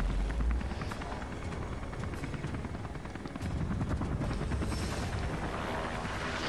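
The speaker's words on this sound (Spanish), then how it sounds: "Voy a estrellar el maldito helicóptero encima" Helicopter in the Beyond Two Souls video game, a continuous rotor chop and engine roar that swells slightly partway through, fairly loud and mostly free of talk.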